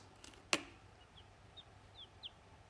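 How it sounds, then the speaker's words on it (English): Ten young chicks being moved into a warm new home give a few faint, high, short peeps spaced across the moment, following one sharp louder click near the start. "let's have a look at our 10 little chickies"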